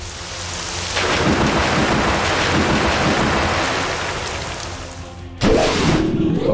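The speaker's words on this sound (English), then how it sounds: "Foe Arcana used Storm Rush." Storm Rush, a wind attack move in the Manamon video game, roars as a loud, steady stormy rush of wind and rain, then gives way to a sharp, stronger burst near the end.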